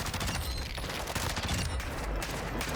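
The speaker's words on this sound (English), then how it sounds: "Who's this one blasting off a shotgun," In the Call of Duty DMZ video game, dense, continuous gunfire fills the whole stretch, with repeated booming shots, likely shotgun blasts, piling up loudly with no pause.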